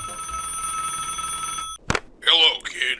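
A telephone rings steadily in the Roblox horror game Alone, a continuous electronic bell tone that stops abruptly, after which a voice begins talking.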